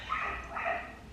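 Dog barking outdoors outside a home, two muffled yips heard at a distance in quick succession, faint and brief with no voices.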